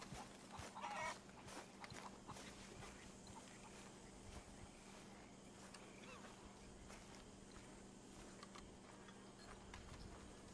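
Faint chickens cluck in a Red Dead Redemption 2 game scene, the soft clucks scattered over a low, steady ambient hum with no other distinct sound standing out.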